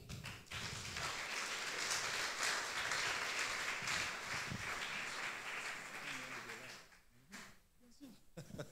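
Church congregation applauding together, a sustained dense wash of clapping that tapers off toward the end, with scattered taps and murmuring voices.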